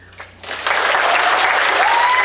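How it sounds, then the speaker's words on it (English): An audience at a Portland teachers' event bursts into applause after a short, faint lead-in. The clapping quickly becomes loud and dense and continues steadily to the end. "Good clapping for me."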